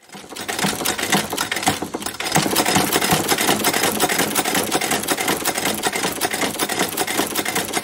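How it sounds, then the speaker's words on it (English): A World War I era sewing machine runs steadily with a rapid, rhythmic clatter, picking up speed after a couple of seconds and then holding a fast, even chatter. "A sewing machine from the World War I era."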